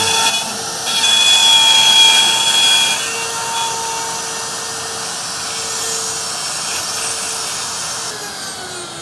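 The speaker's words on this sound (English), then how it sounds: "use our plunge router, which I have preset to the depth of the cut. Now we're going to start it up." Plunge router cutting wood while moved through a mortise jig, a steady loud motor whine with rough cutting noise that swells early then settles into a continuous drone, no talking.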